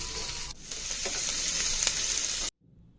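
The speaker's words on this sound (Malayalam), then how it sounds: "ചതച്ച് വെച്ച കൂട്ട് അതിലേക്കിട്ട് നല്ലോണം മൊരിയിച്ചെടുക്കാം." A crushed spice mix with mustard seeds sizzles in hot oil, a steady close-up frying hiss. It cuts off abruptly, leaving near silence.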